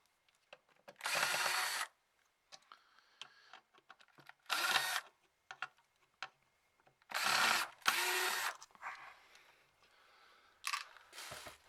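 A power driver removes screws from a Polk Audio DSW PRO 550wi subwoofer in several short whirring bursts, separated by quieter clicks and handling noises, up close.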